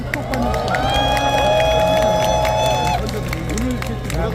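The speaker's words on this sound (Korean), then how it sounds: "뜨거운 박수로 맞이해 주시길 바랍니다." Crowd cheering and applause at a candlelight protest rally in front of Gwanghwamun, a steady loud wash of voices and clapping with a sustained tonal sound, likely a whistle or instrument, sounding through the middle.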